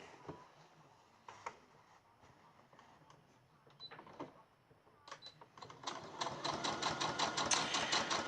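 Sewing machine stitching straight down the sides of a small fabric gift bag, its rapid mechanical ticking starting in short bursts and then running steadily and loudly near the end, with quiet handling sounds in between.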